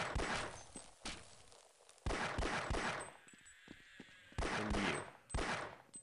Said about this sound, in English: A pistol is good enough to deal with you.